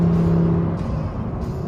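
A 2018 Lamborghini Huracán Performante's 5.2-liter mid-mounted V10 holds a high, strained note, then the pitch shifts as it revs on, loud and close.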